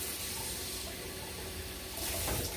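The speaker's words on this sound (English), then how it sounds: "Put some water in there" Hot tap water runs steadily into a paper towel baggie, a continuous close splashing hiss that swells slightly toward the end, with no talking.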